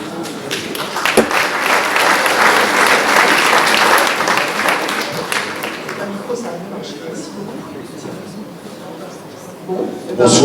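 A theatre audience claps warmly for several seconds, then the applause thins and fades out, followed by a voice speaking near the end.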